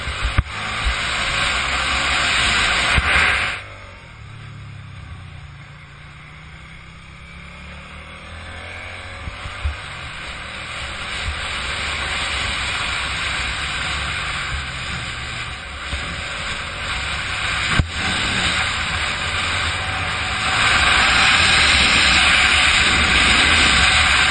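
A Suzuki Gladius 650 twin motorcycle ridden on the road between Milton Keynes and Birmingham, with a steady loud engine drone and heavy wind rush, one brief drop in intensity early, then rising again toward the end.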